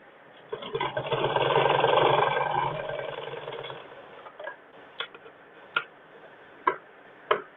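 A sewing machine stitches a school uniform skirt: a steady mechanical whirring run for about two seconds, then sparse sharp ticks and clicks as the machine stops and is adjusted.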